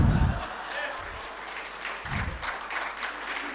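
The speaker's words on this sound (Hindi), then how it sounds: "ताली बजानी है तो अच्छे से बजा लो, वरना मत बजाओ" Audience clapping at a Hindi motivational talk, fairly loud crowd applause with a few heavier bursts over a noisy hall background, lasting a few seconds.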